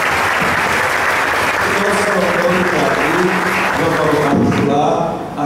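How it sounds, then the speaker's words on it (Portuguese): Applause at a Holy Thursday evening Mass in a church, welcoming the people chosen to represent the apostles; steady, loud clapping from the congregation fills the space throughout, with a voice speaking over it near the end. "para a gente acolher com salva de palmas"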